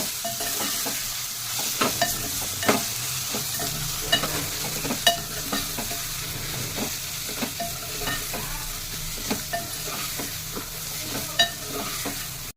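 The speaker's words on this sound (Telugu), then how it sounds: "కొంచెం ఫ్రై కావాలి. కలుపుకొని" Grated raw mango and seasonings for mango pulihora frying and being stirred in a pan, a steady broadband sizzle with repeated sharp scrapes and clicks of the spoon throughout.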